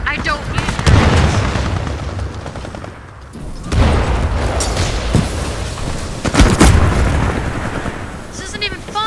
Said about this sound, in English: Stop throwing grenades! I hate grenades.